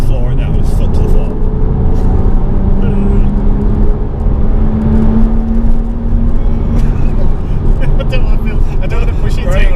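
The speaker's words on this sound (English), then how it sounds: "floor it down, just foot to the floor." Cabin sound of a Porsche Cayman 987.1 3.4 S with a rebuilt engine under full throttle: a loud, continuous engine drone with a slowly rising pitch, steady road roar and wind throughout, heard from inside the car.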